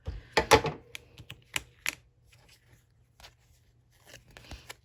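Scissors snip away excess card stock hanging off a card base, a few sharp crisp cuts and paper crackles up close, then quieter scattered handling noises.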